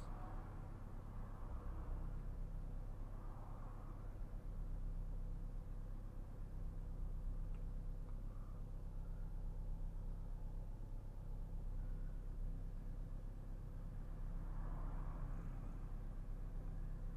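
Steady low road rumble and engine drone from inside a car in São Paulo traffic, continuous and even with no talk, a faint broadband hiss over the cabin noise.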